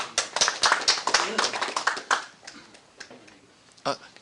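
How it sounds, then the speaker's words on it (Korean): An audience at a Jeju Forum seminar gives welcoming applause, a burst of close, distinct claps that thins out and fades to scattered taps by the end. "큰 박수로 환영해 주시기 바랍니다"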